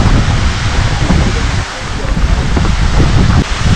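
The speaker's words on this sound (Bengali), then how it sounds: "এখানে পড়ছে সেই কান্দাধার ওয়াটারফলসের জল" Roaring water of Kandadhar waterfall plunging some 250 to 300 feet into a natural rock pool, a loud continuous broadband rush with steady surging turbulence and spray, close and unbroken throughout.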